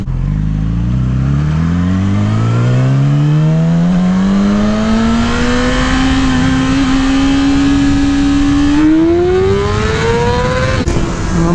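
Yamaha R6 600cc sport bike accelerating hard in first gear, a loud close engine note climbing steadily in pitch for several seconds, rising again sharply before a brief cut near the end.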